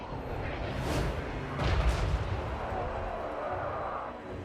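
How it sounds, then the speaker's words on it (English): Explosive ammo artillery fire in the video game Total Warhammer 3, a few muffled distant booms rolling over a battlefield din, modest rather than loud, with some voice in the background. "That's the explosive ammo?"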